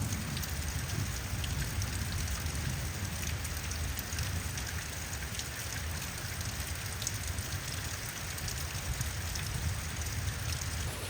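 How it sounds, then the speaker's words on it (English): Steady rain falls on a farm, a dense, continuous hiss of drops spread evenly across the whole stretch with no voices. "It's raining again."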